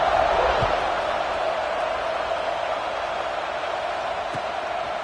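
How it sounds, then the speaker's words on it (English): Football stadium crowd buzzing after a touchdown in a Wolfpack vs Bulldogs game, a broad, continuous roar of many voices, loud at first and settling slightly. "this crowd is buzzing after that last score"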